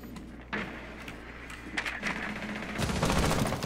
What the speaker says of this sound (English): I hear gunshots toward you.